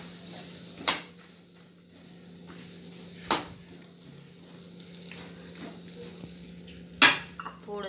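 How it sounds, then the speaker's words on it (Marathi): Okra (bhindi) roasts in a pan with a quiet, steady sizzle, broken by three sharp metallic scrapes of a spatula stirring against the pan, spaced a few seconds apart, with no talking. "भेंडी आता थोडीशी भाजून घ्यायची आपल्याला"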